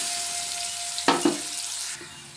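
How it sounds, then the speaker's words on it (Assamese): Onions sizzle steadily in a hot pan as they brown for an Assamese fish curry, a continuous close frying hiss with a couple of brief stirring scrapes partway through. "পিঁয়াজখিনি অকণমান ৰঙচুৱা হ'বলৈ দিওঁ।"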